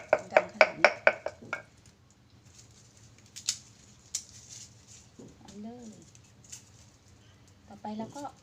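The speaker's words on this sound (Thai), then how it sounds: "ค่อยๆตำ ขนาดค่อยแล้วนะเนี่ย" A pestle strikes gently in a mortar in a home kitchen: a quick, even run of about half a dozen soft thuds, then a few scattered taps, with someone briefly speaking afterward.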